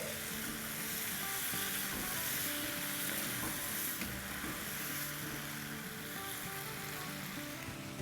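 Okra dropped into a pan on high flame sizzles loudly and steadily, a dense continuous hiss of frying with faint clinks underneath and no voices.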